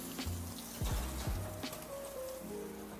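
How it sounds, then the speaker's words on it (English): Steady crackling sizzle from a hot pan of salmon and green mango curry with coconut milk, moderately quiet and continuous, with a few low clunks and brief tonal bleeps layered over it. "I love that sizzle."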